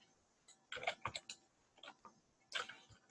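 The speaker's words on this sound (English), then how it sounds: "I'll just type it up here." Typing on a computer keyboard: a few quick clusters of close, crisp key clicks separated by short pauses, quiet overall against a near-silent background.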